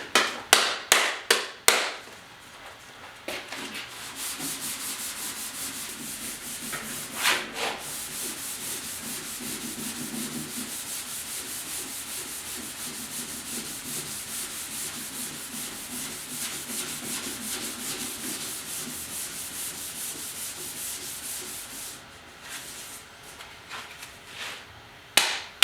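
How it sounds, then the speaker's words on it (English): Clear coat is sanded on a fiberglass Porsche 911 decklid in a steady, continuous rubbing scrub lasting about twenty seconds, close and fairly loud, with a few sharp taps at the start and end. "Now I'm just sanding up some of the clear here"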